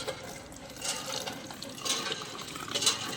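Water pours into a container outdoors while people prepare a khichdi cooking party. It makes a steady rushing splash that swells in surges, with no talking.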